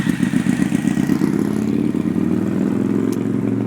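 A 2011 Honda CBR250R with a quick-revving 250cc four-valve single-cylinder engine rides past, a loud buzzing motorcycle drone that sweeps by and gradually fades, with no voices.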